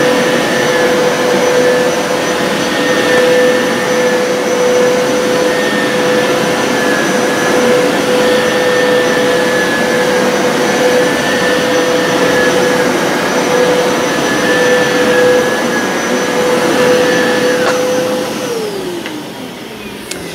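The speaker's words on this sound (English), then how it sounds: "Now I'm going to do suction only." Hoover PowerScrub XL pet carpet cleaner running in suction-only mode, a loud, steady motor whine with a constant high tone that holds for about eighteen seconds, then winds down as the machine shuts off.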